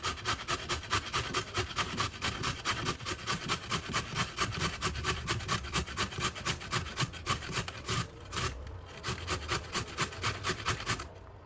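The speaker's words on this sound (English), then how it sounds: "So let's just grate it." A carrot is grated by hand, a steady rhythmic rasping of quick strokes repeating closely throughout, with a brief pause near the end before the scraping resumes.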